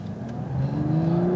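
A 2018 Lexus LC 500h hybrid pulls hard off the line, its engine and electric-motor whine rising steadily in pitch as it accelerates, heard from inside the car at a strong, continuous level.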